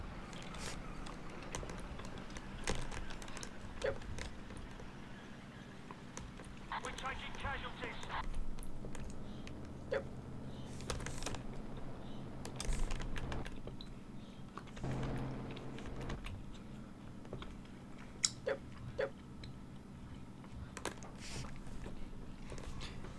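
Computer keyboard clicking during typing, picked up by a sensitive microphone: scattered sharp clicks in irregular bursts sit beneath ongoing talk.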